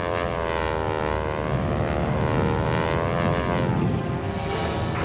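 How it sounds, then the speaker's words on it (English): A Stearman biplane's engine at an airshow sputters back after briefly quitting during a maneuver, a loud, rough propeller drone that fills the whole stretch with no talk. "when the engine quits momentarily"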